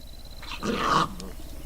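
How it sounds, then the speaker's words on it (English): Dogs snarling and growling in a brief scuffle, a burst of rough, aggressive growls rising then breaking off, fairly close. "dogs are fighting."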